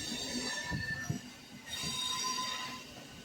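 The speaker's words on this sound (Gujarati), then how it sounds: "अब हमारी ट्रेन ચાલો આ પહોંચ્યા વિલુપુરમ" A passenger train from Pondicherry to Chennai Egmore pulls into Villupuram station with a steady rail rumble, thin squealing wheels, and rising clatter toward the end.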